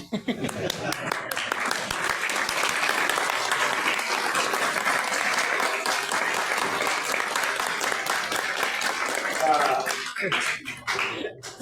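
An audience claps in sustained applause, a dense, even patter of many hands that holds steady for about ten seconds before trailing off, with a voice faintly underneath.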